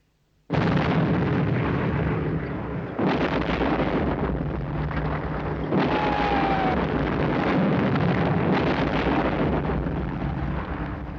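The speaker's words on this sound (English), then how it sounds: "The Unitron is still firing." Sustained roaring bursts of weapon fire from the Unitron in the 1967 Captain Scarlet and the Mysterons episode 'Point', loud and continuous with several fresh blasts over about eleven seconds, no voices.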